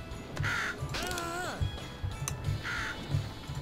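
Bird cawing in the Scribblenauts Unlimited video game, a couple of harsh crow-like caws over steady game background sound with some low thumps.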